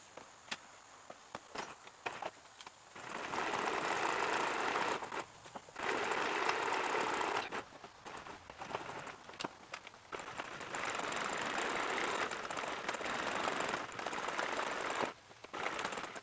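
An electric sewing machine stitches fabric panels for a quilted tree skirt in steady runs of rapid buzzing, broken by short pauses and light handling clicks, close and fairly loud.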